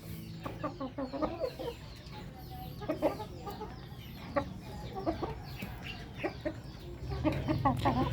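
A pure J47 gamefowl stag rooster clucks nearby in short, repeated calls at an uneven rhythm, moderately loud over a faint farmyard background, with no one speaking.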